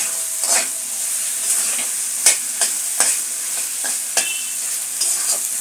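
Lotta shutki dry fish curry frying in a pan, a continuous high sizzle punctuated by repeated scraping stirs and light clicks of a spoon against the pan, close and steady, no talking.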